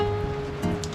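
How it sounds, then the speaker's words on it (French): Heavy tropical rain falls on Terceira, a dense, even hiss of drops over one brief moment, with no voices. "Et là c'est une pluie monstrueuse."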